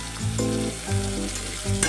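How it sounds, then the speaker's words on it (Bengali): Carrots, beans, tomato and cauliflower fry in hot oil with cumin, giving a constant close sizzle. A stepped, melodic tone plays over it, and no one speaks. "জিরে সম্রা দিয়ে দিয়েছি তেলের মধ্যে দিয়ে দিয়েছি গাজর বিন টমেটো ফুলকপি"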